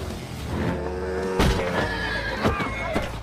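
A horse struck by a motorcycle gives loud, shrill whinnies over a low rumbling background, with a few sharp neighing bursts close by.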